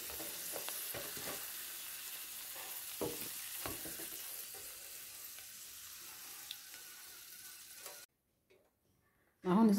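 Food sizzles and crackles in hot oil in a pan while cooking an Ethiopian fasting breakfast, a steady fizzing with occasional sharp pops and stirring clicks, fading into near silence before a brief louder noise at the end.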